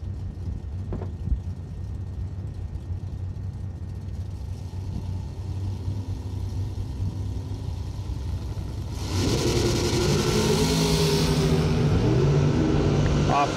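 Drag racing cars, a Mopar and an Opel, idle with a low rumble before launching hard, then a loud engine roar and rising revving surges into the distance at a Christmas bash event.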